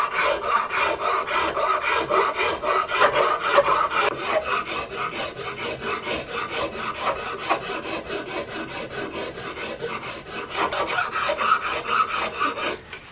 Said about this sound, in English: So I'm going to expand my file strokes a bit so that we have a nice even transition.